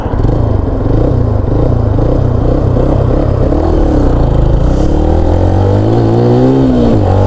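A Benelli BN125 motorcycle engine drones loudly and steadily while riding along a beachfront road, its pitch rising and falling through gear changes as it accelerates, with wind rumble throughout.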